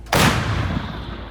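An American M119 howitzer fires a single shot in a forest, a sudden loud, close blast that leaves a rumbling tail as it fades.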